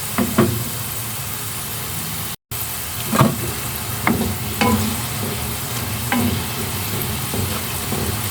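Homemade chicken frying in hot oil until golden brown: a steady, close sizzle with occasional clicks and taps from the pan, and no voices.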